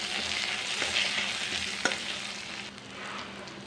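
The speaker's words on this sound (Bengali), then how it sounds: "একটু তেজপাতা ফোড়নও দিয়ে দিচ্ছি, একটু আদা রসুন দিয়ে দিচ্ছি, লঙ্কাগুলোও দিয়ে দিচ্ছি।" Bay leaf, ginger, garlic and chillies frying in hot oil, a continuous moderate sizzle with occasional stirring scrapes and a sharp clink partway through.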